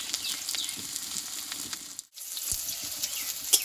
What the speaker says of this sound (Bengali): এবার উল্টো দিকটা ভেজে নেবো